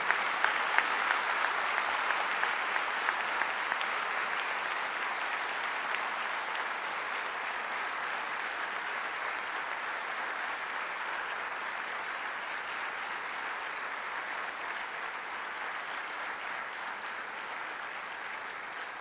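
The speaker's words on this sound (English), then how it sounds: "let us give our parents, who have done everything for us, a massive round of applause" A large convocation crowd at BITS Pilani, Goa, gives parents a long, sustained round of applause. Dense, even clapping continues at steady loudness for nearly twenty seconds, easing very slightly toward the end.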